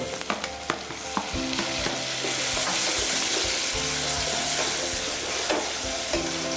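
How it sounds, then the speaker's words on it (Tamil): Onions frying in a pan for chole, a steady loud sizzle with stirring scrapes and occasional clinks of a utensil against the pan, close and continuous throughout. "ஸோ ஆனியன் நல்லா இப்போ ஃப்ரை ஆகிடுச்சு இல்லைங்களா?"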